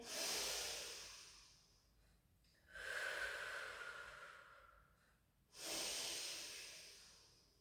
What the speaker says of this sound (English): Take a breath in